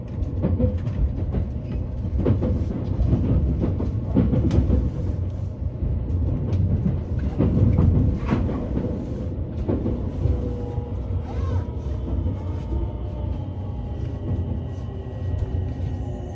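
A JR commuter train runs on rails as it approaches Tennoji Station, with a continuous low rumble, rhythmic wheel clatter over rail joints and occasional squeals, heard steadily from inside the car.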